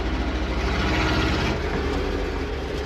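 Old Dodge Sweptline pickup engine running while driving, a loud steady low rumble with a continuous drone and road noise throughout.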